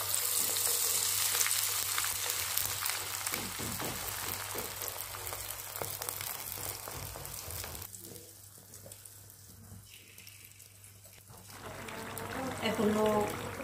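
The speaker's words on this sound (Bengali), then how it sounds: "বলক চলে আসছে, এখন আমি আচার দিয়ে দিচ্ছি।" Pickle poured into boiling oil, a loud continuous sizzle and bubbling that drops to a softer hiss partway through, then swells again, with some background voices.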